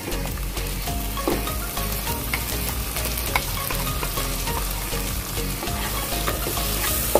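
Ground spinach added to roasted, fragrant masala in a pan for makai palak (corn and spinach), sizzling and frying steadily with scraping stirs throughout, close and even, no talking.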